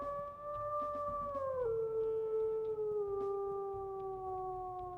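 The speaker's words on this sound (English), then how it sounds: "let's also listen to his howl" Wolf howl from the video game Moxie's Quest: a long, sustained, tonal howl that steps down in pitch twice, loud and close, over a low rumbling background, with no talking.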